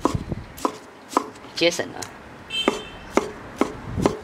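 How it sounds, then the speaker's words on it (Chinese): Pork tenderloin chopped with a cleaver on a cutting board, about nine sharp, evenly spaced thuds at a relaxed pace, close and distinct, with brief quiet talking between strokes. "稍微剁碎一下，砍得差不多了"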